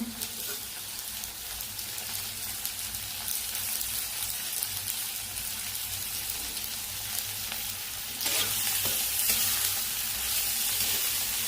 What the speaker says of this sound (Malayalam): ഇതൊന്ന് ഇളക്കി കൊടുക്കാമേ